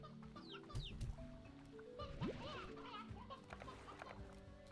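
A rooster in a video game clucks several times, quick rising chirps and clucks mixed with light game noise. A voice talks over it now and then.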